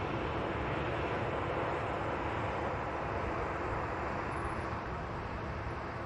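An airliner taxiing out at Manchester Airport produces a steady, broad engine roar that holds constant for several seconds, heard from a distance with no speech over it.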